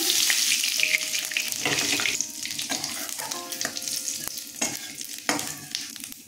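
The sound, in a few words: dried chilli and cumin tempering sizzling in mustard oil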